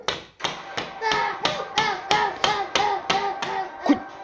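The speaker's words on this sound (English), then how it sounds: "Quit banging your head!" A pet repeatedly banging its head against something hard, a steady series of about ten dull knocks roughly every half second, close by, with a faint tonal whine running underneath.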